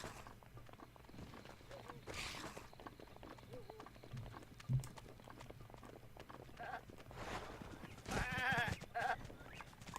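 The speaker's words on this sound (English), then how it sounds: "Watch out for goats, apparently." Goats bleating in the video game Breath of the Wild: faint bleats and soft animal sounds mixed with quiet game ambience and footfalls, with a person talking intermittently over them.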